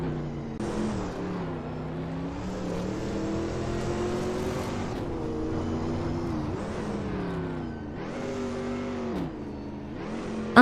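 A 1957 Chevrolet Bel Air engine in a racing video game, revving hard and steady with rising and falling pitch through gear changes, loud and close throughout, with no voices.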